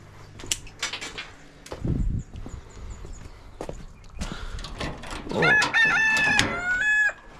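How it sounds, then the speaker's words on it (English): A rooster crows loudly and nearby, repeating several times in the second half, over clucking fowl, footsteps and clanking at an outdoor scrap metal processing spot. "Oh no, Rooster, you're there."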